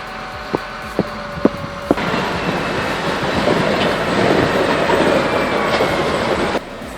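A commuter train pushes through snow, preceded by a few sharp evenly spaced clanks, then a loud continuous rushing, rumbling passage for several seconds that cuts off abruptly.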